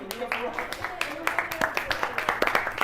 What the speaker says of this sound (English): Okay, you guys can start clapping now.